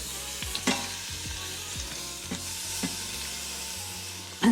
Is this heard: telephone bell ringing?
no